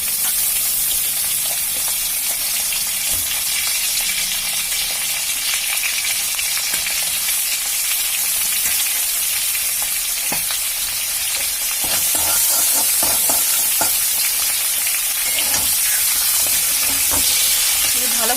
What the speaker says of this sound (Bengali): আলুগুলো দিয়ে দিলাম ভাজার জন্য, সাথে কাঁকরোলটাও দিয়ে দিয়েছি।